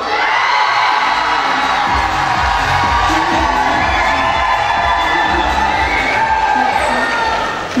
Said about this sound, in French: Applaudissements pour Verena.